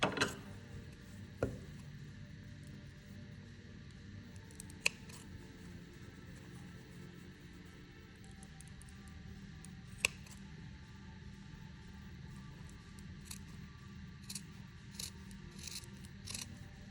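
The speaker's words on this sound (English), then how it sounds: "When you're cutting, just be careful to only cut these 2 layers." Scissors cut through two fabric layers, a pocket bag and a pant, while sewing a jet pocket. The snips are faint and sparse, with a few sharp clicks over a quiet steady room hiss.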